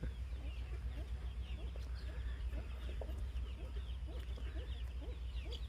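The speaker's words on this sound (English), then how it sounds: "Brewster the Rooster" A rooster clucks repeatedly among other farm fowl, a busy ongoing stream of short calls under a steady low background hum, with faint voices mixed in.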